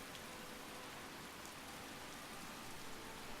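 Steady rain falls in the fantasy game Skyrim, a soft, even hiss of drops that carries on unbroken throughout, faint and without any talk.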